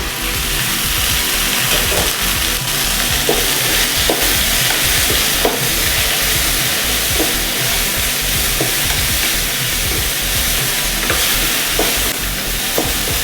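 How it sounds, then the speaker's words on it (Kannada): Okra sizzles and crackles steadily in hot oil in a pan, a loud continuous fry with light stirring scrapes throughout and no voices. "ಎಣ್ಣೆ ಹಾಕೊಂಡು ಫ್ರೈ ಮಾಡೋದ್ರಿಂದ ನೀಟಾಗಿ ಫಾಸ್ಟಾಗಿ ಫ್ರೈ ಆಗುತ್ತೆ"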